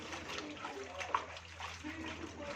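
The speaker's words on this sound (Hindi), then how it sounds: "इनको हम 2 से 3 बार खुले पानी में वॉश कर लेंगे" Fresh spinach leaves rinsed under running tap water in a kitchen, a steady gentle stream with soft splashing and trickling throughout.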